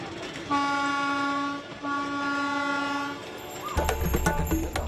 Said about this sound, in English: The packed evening train pulls into Dawlatdia station.